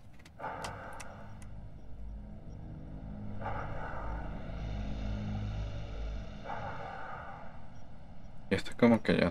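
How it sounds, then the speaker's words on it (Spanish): In a Call of Duty Modern Warfare 3 zombies match, a game helicopter arrives with a rising, swelling rotor drone. Voices speak over it and bursts of other game noise break in near the end. "Y le llegó el helicóptero."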